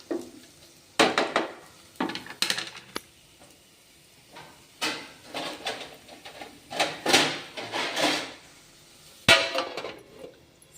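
A metal lid clatters and clinks onto a frying pan of red chillies on the stove, with several separate knocks and scrapes spread across a quiet kitchen.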